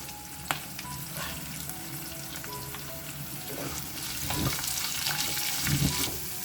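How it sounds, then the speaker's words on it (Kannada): Onion and curry leaves fry in a pan with a continuous close sizzle, scattered light crackles and soft stirring scrapes, growing slightly busier toward the end, no voices. "ಸೊ ನೋಡಿ ಇಲ್ಲಿ ಈರುಳ್ಳಿ ತುಂಬ ಚೆನ್ನಾಗಿ ಹುರಿದಿದೆ"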